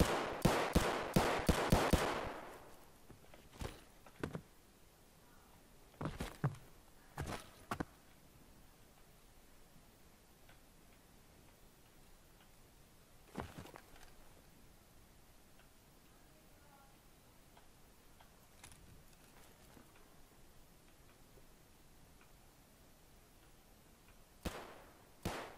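A rapid burst of gunshots opens the scene in Escape From Tarkov, followed by scattered single distant cracks and short volleys spread across a quiet, hushed background.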